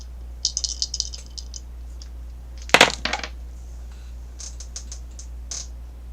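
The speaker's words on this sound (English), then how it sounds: "I'm gonna do the astrology dice for you" Astrology dice are rolled, producing light scattered clicks and rattles, then one sharp clattering burst partway through, followed by a few softer taps as they settle. No one speaks.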